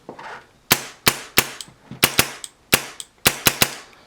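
An A&K M249 airsoft gun fitted with a PolarStar Jack fires sharp, close semi-auto shots, about a dozen crisp cracks in an uneven rhythm, often in quick pairs, with no talk.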